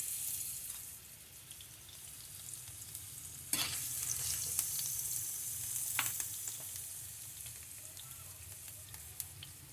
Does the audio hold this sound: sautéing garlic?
yes